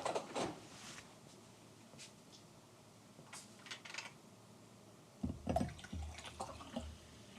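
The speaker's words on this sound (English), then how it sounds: "I'm just going to go and grab myself a drink of water." Someone gets a drink of water: faint liquid pouring and dripping, with light clinks and a drawer-like knock, quiet and close with gaps between sounds, then a louder burst of handling near the end.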